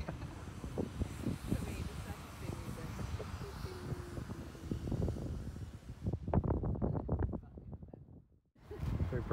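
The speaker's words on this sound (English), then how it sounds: "It's windy." Wind gusting across a sailboat deck during mast stepping, a broad steady rush with buffeting microphone noise that briefly drops out near the end, with a voice speaking under it.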